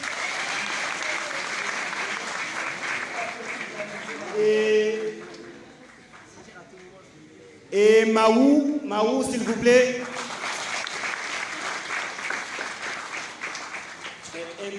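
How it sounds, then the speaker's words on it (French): Audience applause at a stage show, sustained clapping from a large crowd that dips while someone speaks over a microphone, then swells back to a full, steady roar. "Un tonnerre d'applaudissements pour celui qui a mis en scène ce spectacle"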